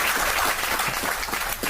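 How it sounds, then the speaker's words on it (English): An audience claps for a UNICEF ambassador at a televised event, a dense, steady round of applause lasting the whole moment without speech. "we want to clap and congratulate our good ambassador and UNICEF."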